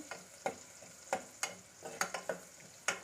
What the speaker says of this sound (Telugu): పోపు గింజలు వేద్దాము జీలకర్ర ఆవాలు శనగపప్పు మినప్పప్పు ఇలా వేసి